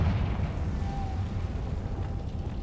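The Confringo blast spell in Hogwarts Legacy, a sustained roaring rumble of fiery explosion with a low booming body, loud and continuous without any talking.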